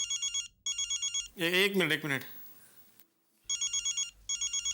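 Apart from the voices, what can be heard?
telephone ringing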